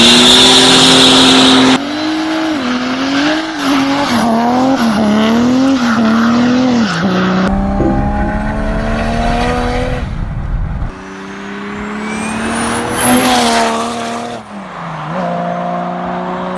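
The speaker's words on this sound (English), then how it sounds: "It just flat out sounds like a proper inline-six performance" A Mercedes OM606 inline-six diesel engine revs hard and close, its pitch climbing and falling through repeated throttle pulls with a high turbo-like whine riding on top.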